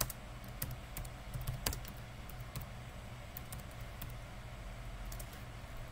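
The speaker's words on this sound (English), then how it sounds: "I can hear you typing." Keyboard typing during a Scrap Mechanic multiplayer session, rapid irregular clicks and occasional sharper key strikes over a low steady background hum, fairly quiet and close, with no talking.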